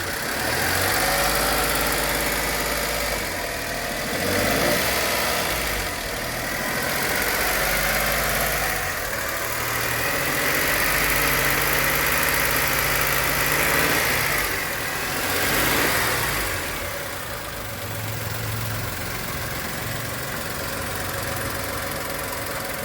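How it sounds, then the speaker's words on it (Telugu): A used 2011 Skoda Fabia Ambiente with its engine idling, a steady close low rumble with a faint regular knock, swelling slightly a few times, no voices. "ఇంజన్ బీటింగ్ చాలా స్మూత్ ఉందండి ఇంజన్ కూడా."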